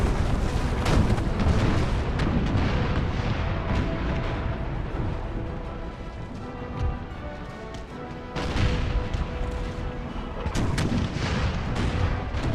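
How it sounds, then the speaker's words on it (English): Naval cannons in Empire Total War fire round shot at a ship's hull, with heavy booming volleys rolling one after another, loud and near, then a short lull before more blasts. "I'll go for a round shot, just put some shots into a hull."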